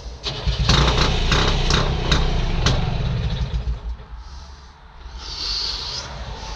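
The small donkey starting engine on a Belarus DT75 crawler tractor sputters and catches after several firing bursts, then settles into a loud, uneven, close-up running note.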